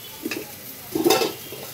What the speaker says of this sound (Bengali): ঢেঁড়স আলু ভাজা গরম করি